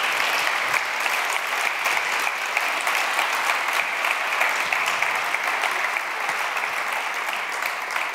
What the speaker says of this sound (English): So a big round of applause to all the people who took the time to present.